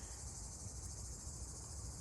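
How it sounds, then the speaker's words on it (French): Cicadas buzz in a dense, unbroken outdoor chorus, a steady high droning shimmer that fills the air without pause, with no one speaking. "Il y a juste le bruit des cigales."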